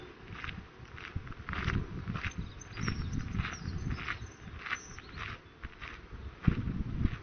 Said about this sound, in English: All you hear is the wind and your own footsteps.